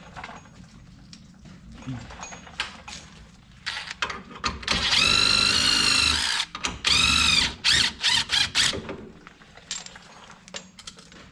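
Power tool whirring in short bursts to back out a shock bolt on a 2021 Can-Am Defender XMR side-by-side, loud close spurts separated by clinks and someone talking over it.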